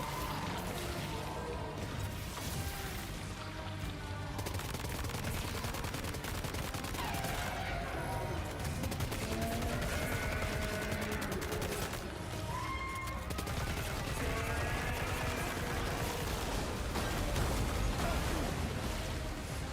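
Dense, relentless gunfire and crashing impacts fill a firefight in the video game Death Stranding 2, loud and continuous with bursts layered over one another throughout.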